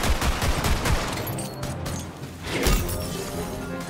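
Rapid bursts of gunfire from a weapon in the Tiny Tina's Wonderlands video game, loud and close, with dense overlapping shots that ease off mid-clip before a sharp cluster returns.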